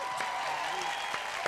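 Applause and crowd noise welcoming a musician and comedian to a live music and stand-up show, a steady wash of clapping with voices mixed in throughout.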